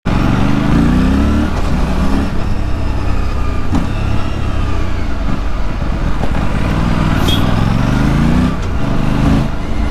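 Parallel twin motorcycle engine running close by, a loud throbbing idle with repeated revs that rise and fall in pitch several times.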